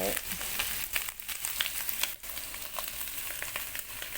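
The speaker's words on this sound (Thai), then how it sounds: "หลังจากนั้นก็เตรียมไข่ที่เรา เอาลงไปผัดคลุกเคล้า" Eggs stir-fried in a hot pan for fried rice give a close, continuous sizzle, broken by scraping and clattering strokes of a spatula as they are tossed and mixed.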